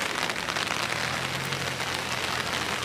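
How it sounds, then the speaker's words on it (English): Dense, steady hiss of heavy rain pouring onto hard surfaces in Lille, France, a constant close wash of droplets with no pauses. "Here, heavy raining now."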